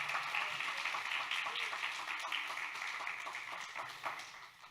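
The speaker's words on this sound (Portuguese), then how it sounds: "Vamos aplaudir de novo?" Church congregation applauding together during a Friday evening service, a steady wash of many hands clapping at moderate distance that holds for several seconds and slowly fades.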